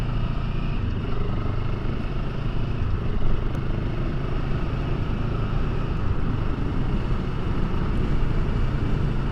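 A 2022 CFMOTO 700 CL-X motorcycle cruises in sixth gear on a UK road, its engine a steady low drone blended with wind rush, heard from the rider's position with no one talking.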